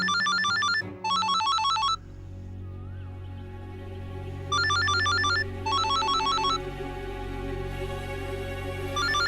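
Electronic telephone ringing in repeated bursts of rapid trilling tones, pausing between rings, over a quiet low hum.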